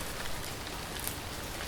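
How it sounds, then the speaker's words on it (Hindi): Heavy rain falling in a steady, even hiss of drops on surfaces, fairly quiet and without voices. "बारिश पहले से भी ज्यादा भयानक थी"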